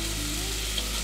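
Onions hitting hot frying grease for a green beans and potatoes side dish make a brief, dense and steady sizzle that stays loud and close for about a second.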